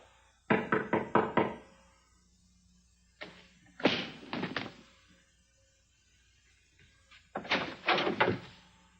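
Knuckles rap on a door in three close bursts of quick knocks, each run of four or five sharp hits separated by quiet pauses, near and fairly loud with no speech.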